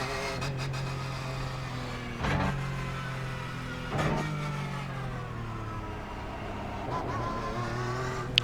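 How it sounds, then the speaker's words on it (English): A Porsche 911 GT3 Cup in the racing game iRacing pulling away in first gear at the Nürburgring, the engine revving up repeatedly with brief gear-change dips, a continuous loud mechanical tone with no talk. "So first gear, and off we go."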